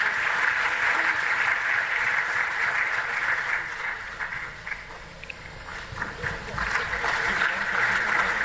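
An audience at a sanitation awards conference applauds loudly as award recipients are welcomed, with sustained clapping that dips briefly midway and then swells again under a voice over a public address system.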